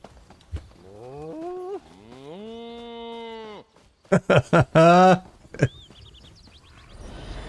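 Cows in the video game Elder Scrolls Online moo repeatedly: a couple of drawn-out, wavering lows followed by several short, loud, choppy moos close up.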